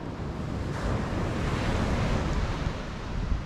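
Waves breaking on a beach along the Algarve coast of Portugal, a continuous broad wash of surf heard with wind buffeting the microphone and no talk.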